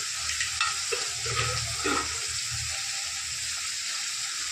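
Chicken sukha with onions and asafoetida stir-frying in a pan, a steady close sizzle and hiss with soft scraping and stirring bumps near the start, then a constant frying crackle.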